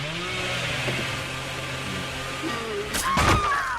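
A killer's chainsaw sprint in the Dead by Daylight video game, a revving mid-pitched motor whine that holds and shifts over about four seconds, ending in a sharp crashing hit, with no talking.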